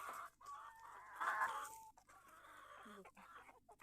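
Chickens being fed leftover rice and vegetable scraps cluck close by in a run of short, throaty calls, one louder squawk rising in the middle, with no talking.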